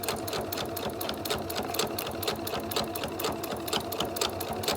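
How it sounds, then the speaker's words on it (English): A sewing machine stitches along the edge of a fabric 3-D face mask, running steadily and loudly with a rapid, even needle clatter throughout. "we're just going to go ahead and sew along this edge to seal up our face mask"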